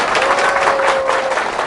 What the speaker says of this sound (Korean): 힘찬 뜨거운 박수를 보내주시면 감사하겠습니다